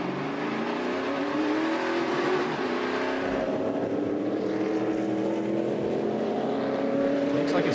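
NASCAR Nationwide Series race cars roaring around the track at a road course, a loud sustained engine drone with rising and falling pitch as cars accelerate and pass, continuous throughout.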